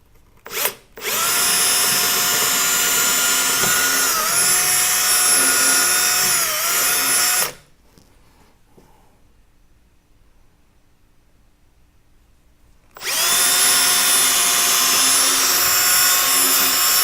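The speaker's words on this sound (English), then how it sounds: "So we're going to drill these holes." A power drill fitted with a 1/4 inch bit bores holes while tools are mounted on a rolling tool cart, giving two long, loud, steady whines separated by a quiet pause, with a brief burst at the start.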